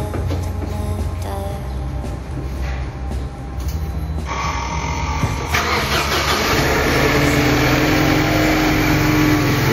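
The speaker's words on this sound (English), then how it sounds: "Very robust sounding engine, lovely engine." A Mercedes E-200 Compressor in mint condition cranks and catches, then settles into a steady, loud, close-up idle with a dense mechanical rumble.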